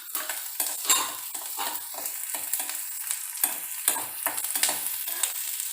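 Chopped onions and green chillies frying in a pan for Punjabi kadhi pakoda, with a spoon repeatedly scraping and stirring in uneven strokes over a soft sizzle, close and clear.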